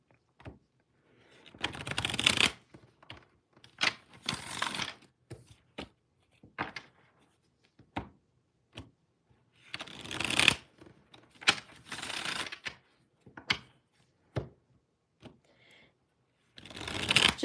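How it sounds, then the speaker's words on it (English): A deck of cards is shuffled in repeated bursts of fast riffling and flicking, separated by short pauses, close and fairly quiet, with no talking. "I'll just start shuffling for you"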